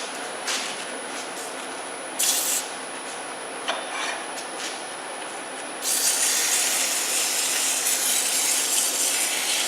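Sandpaper rubs against a segmented wooden baby rattle turning on a lathe, a steady close scratching hiss that grows brighter and louder partway through, with no talking.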